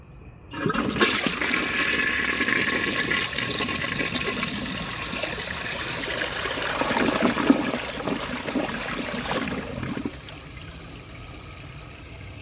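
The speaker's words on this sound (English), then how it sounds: "Not sure what all that gurgling was, but that flush was awesome" A Project Source Pro toilet with an overfilled tank flushes in a close, loud rush of water. Gurgling churns through the middle of the flush, then the rush cuts off into a quieter trickle as the tank refills.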